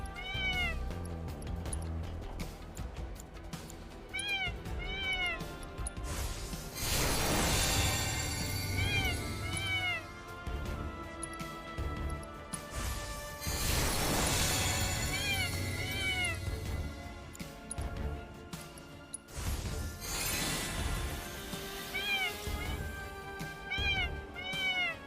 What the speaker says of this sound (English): Chocobo sounds like an unhappy kitty.